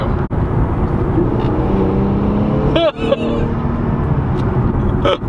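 An Infiniti Q50 Red Sport accelerates hard on a 0-60 run, its engine a loud, sustained roar from inside the cabin. A sharp shift break comes partway through, and speech is faint underneath.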